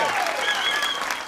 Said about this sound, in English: Clap if you did get hit as a kid